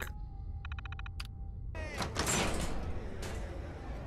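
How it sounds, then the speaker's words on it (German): Door opening in the video game Fallout 4: a short electronic beeping sequence, then a heavy mechanical sliding whoosh with a metallic thunk as the door moves, loud against steady background hum. "Türsteuerung. Tür öffnen."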